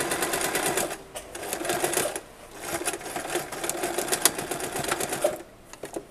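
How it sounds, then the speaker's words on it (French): A sewing machine runs in close, quick bursts of rapid stitching as it goes back and forth over the first seam of a skirt, with brief pauses between runs. "je viens coudre et faire un aller-retour sur ma première couture"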